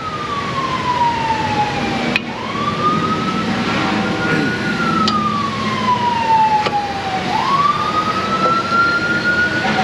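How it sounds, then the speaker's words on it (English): Wailing sirens from a fire truck and ambulance passing, rising and falling repeatedly over steady road traffic noise, loud and continuous with no talk. "That's the third fire truck and ambulance today already."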